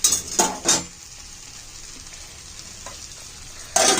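Food is sautéed and stirred in a pan, with a soft continuous sizzle broken by a few sharp scraping clatters of a utensil against the pan at the start and end.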